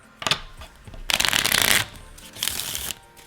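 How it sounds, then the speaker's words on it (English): A deck of playing cards being shuffled by hand for a beginner card trick, with several riffling bursts separated by brief pauses, close and clear with no talking. "we're gonna have to shuffle these up"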